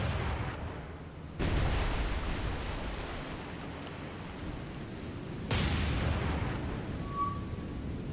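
Destroyer deck guns in the War on the Sea naval game fire in two heavy booming blasts about four seconds apart, each rolling out over a steady wash of sea and engine noise, with no voices.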